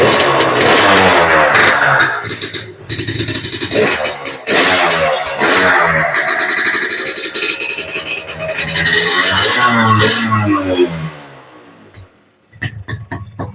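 A Suzuki Satria two-stroke motorcycle engine revs loudly and close up, its raspy buzzing note rising and falling through repeated throttle blips before dropping away near the end.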